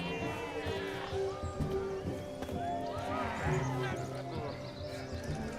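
Horse in The Witcher 3 gives a whinny amid game ambience, with other animal and background sounds mixed under ongoing activity.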